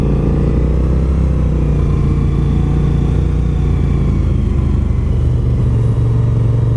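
A group of motorcycles on the Silver Lake Take Over benefit ride sends out a loud, steady engine rumble that drones continuously without a break, with no talking.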